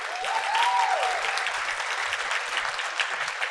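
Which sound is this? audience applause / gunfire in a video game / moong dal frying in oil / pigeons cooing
audience applause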